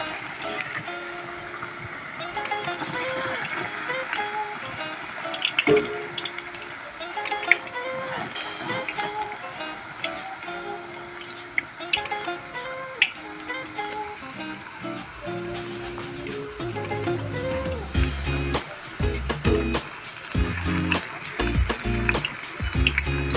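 Food frying in a pan gives a steady sizzle with bubbling and crackling, louder and denser toward the end, with a voice talking over it.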